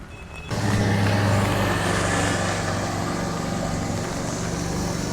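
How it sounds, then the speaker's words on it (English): Steady roar of road traffic on a street in Da Nang during a typhoon, with a heavy engine rumbling close by and continuous vehicle noise, likely cars and motorbikes passing, and no talking. "Much less cars and motorbikes than usual at this time of day."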